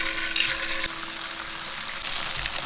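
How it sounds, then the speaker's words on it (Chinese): Tofu slices sizzle in a little hot oil in a flat-bottomed pan. The hiss is steady and fairly loud, holds for the whole moment, and has a faint tone humming beneath it. "油温热了，把豆腐放下来煎"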